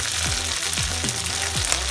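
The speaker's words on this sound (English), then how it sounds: "After adding curry leaves, add our dry red chilies to it" Curry leaves and dry red chilies sautéing in a pan for homemade masala powder, a steady close sizzle with periodic low scraping stir strokes, no talking.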